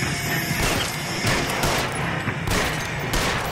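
Gunfire in the video game LA Noire, a fast volley of sharp shots fired in close succession, loud and continuous with overlapping bursts throughout.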